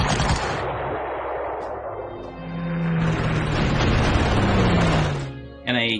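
Loud, continuous rattling gunfire and explosive roar from a fighter aircraft strafing tanks in the Panzer Corps strategy game, sustained for several seconds before a brief tonal sound near the end, no voices.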